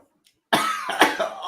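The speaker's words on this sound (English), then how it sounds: "Oh, my cough is really bad." Several harsh coughs in quick succession, close and loud, following a brief silence.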